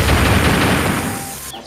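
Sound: gunshots in ZombiesWaves video game

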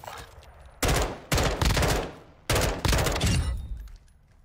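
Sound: gunfire in the video game Warzone 2.0

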